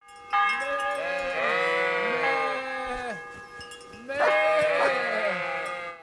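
A voice imitates goat bleats in Kingdom Come: Deliverance, giving two drawn-out, wavering bleating bursts with a short gap between them. The sound is close and clear.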